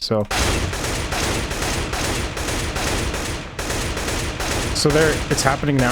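Sustained automatic rifle spray in Counter-Strike: Global Offensive, a dense, loud, unbroken stream of rapid shots with a brief gap partway through, and someone talks over the last second.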